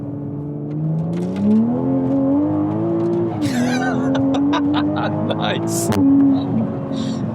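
A Toyota Supra Mk5 pulls hard in sport manual mode, its engine note rising steadily through the gears with brief exhaust pops and crackles at the shifts, loud from inside the cabin while occupants speak briefly.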